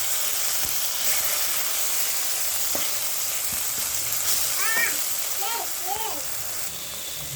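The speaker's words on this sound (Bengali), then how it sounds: "আদা রসুনগুলো সুন্দরভাবে ভাজা হয়ে গেছে, হালকা করে ভেজে নিয়েছি।" Ginger-garlic paste frying in oil for mangsho kasha, a spiced meat dish: a loud, continuous close sizzle with occasional utensil clicks, and a person talking over it.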